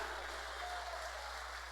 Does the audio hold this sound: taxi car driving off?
no